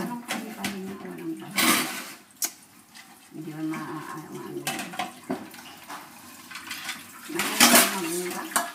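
Dishes, pots and cutlery being washed by hand clatter and clink in irregular bursts, with running water from a tap and people talking in between.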